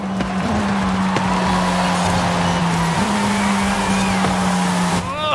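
McLaren GT sports car, oddly tuned, racing in a video game: a steady, high engine whine holds pitch, dips briefly as it shifts, then climbs again, with faint tire noise, loud and continuous throughout.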